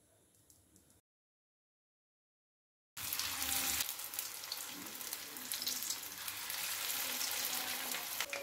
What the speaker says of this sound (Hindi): फ्रेंड्स, अब हम सलो फ्राई करेंगे। तो पैन में 4 चम्मच तेल डाल दिया है,